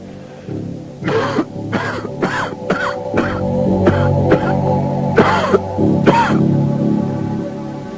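Harsh, repeated smoker's cough with throat clearing, a string of rasping bursts in quick succession, close and loud.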